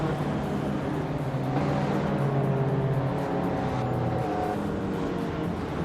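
A pack of race cars pulling away from the start, led by a 1987 Buick GNX, engines droning loud and continuous with rising revs and shifting pitches, close and alone without voices.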